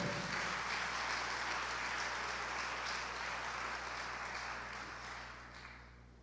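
A church congregation applauds steadily at a Spanish-language pastor's sermon, a sustained dense wash of clapping that gradually thins and fades toward the end, with no voices over it.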